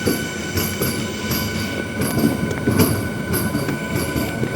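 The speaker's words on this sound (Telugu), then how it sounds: "ఆరవల్లి రైల్వే స్టేషన్ నుంచి అయితే మన ట్రైన్ స్టార్ట్ అయిపోయింది" A MEMU train on the Rajahmundry to Bhimavaram line runs steadily, with a continuous rumble and rattle of carriages and rhythmic wheel clicks on the rails, heard from inside.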